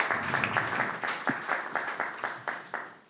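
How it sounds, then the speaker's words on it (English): An audience applauds to close a panel session on supporting Ukrainian research through international exchange, a short burst of steady clapping that builds and then fades out. "We can applaud."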